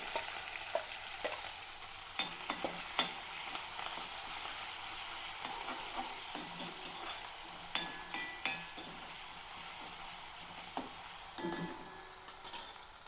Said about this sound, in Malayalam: ഇതിലേക്കേ വെളുത്തുള്ളി ഉള്ളി പച്ചമുളകും ചതച്ചതാണ്